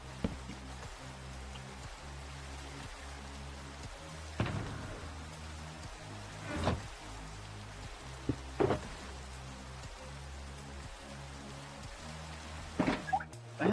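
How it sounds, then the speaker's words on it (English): Minecraft rain falls as a soft, continuous patter, steady and moderately quiet, with a few brief louder ticks and bumps along the way. "Yay, rain! Rain in Minecraft."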